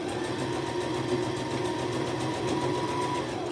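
Sewing machine stitching the edges of a small fabric sachet, a steady, close mechanical whir with a fast even pulse running unbroken throughout.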